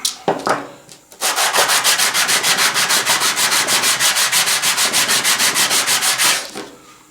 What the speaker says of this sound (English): use a piece of 220 grit sandpaper on a flat surface